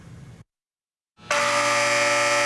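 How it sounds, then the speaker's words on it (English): An alarm sounds at Homestead Air Reserve Base: after a brief silence, a loud, steady, horn-like blaring tone starts abruptly and holds on without a break. "When the alarm sounds, it warns pilots at Homestead Air Reserve Base"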